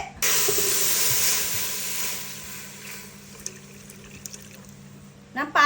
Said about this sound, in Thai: ใส่กะทิ